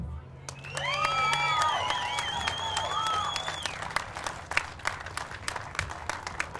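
An audience at a July 4th Tea Party rally in Reno, Nevada breaks into sustained applause and cheering, with whoops and a voice rising over the clapping, which thins out into scattered claps near the end.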